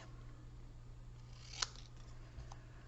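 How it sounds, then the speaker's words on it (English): Scissors fussy-cut a piece of designer series paper for paper piecing, giving a single quiet, crisp snip against a steady low room hum. "I'm just simply going to fussy cut it instead."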